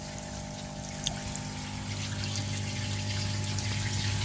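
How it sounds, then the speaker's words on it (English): A pond pump hums steadily as it draws water from a bottom drain through a sieve, under a constant trickling, gurgling flow, close and even throughout with no voices. "The pump sucks the water from the bottom drain"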